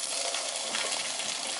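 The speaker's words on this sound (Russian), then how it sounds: "Обжариваем на большом огне минуты 3-4 до образования румяной корочки." Cut potatoes fry in sunflower oil in a hot pan over high heat, giving a dense, steady sizzle and crackle that runs loud and unbroken throughout.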